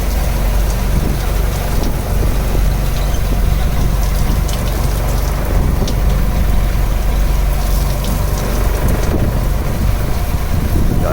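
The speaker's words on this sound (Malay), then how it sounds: "Hujan sedang ribut di laut." Heavy rain pours down at sea during a storm, a dense, steady hiss of drops on water and surfaces with a low rumble underneath, continuous and loud throughout with no talking.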